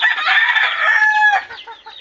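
Backyard chickens: a loud, close hen cackle or crow-like call holds for about a second, then breaks into a few quieter trailing clucks.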